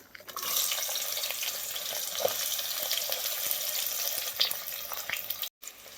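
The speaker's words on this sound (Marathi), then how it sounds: "कांदा लाल होईपर्यंत भाजायचा आहे आपल्याला, तांबूस रंगाचा होईपर्यंत." Onion sizzles in hot oil with a bay leaf, the first step of an egg dum biryani. The hiss is steady and moderate, close to the pan, with a few small pops and a brief break near the end.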